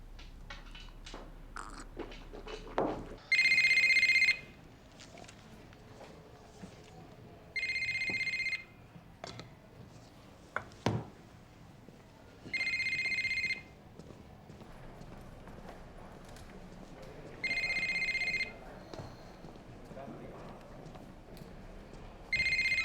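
A telephone rings in repeated electronic bursts, five rings evenly spaced about every five seconds, clear against a quiet room with faint scattered knocks and rustles between them.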